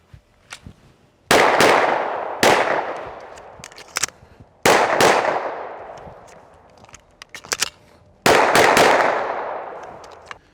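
A handgun fires Hornady XTP American Handgunner ammunition outdoors in sharp, loud single shots, four main reports spaced a second or two apart with ringing decay and smaller clicks between.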